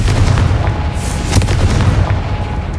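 A Confringo blast spell explodes in Hogwarts Legacy, a loud, booming burst with a rumbling, crackling tail that fills the whole moment, with no talking over it.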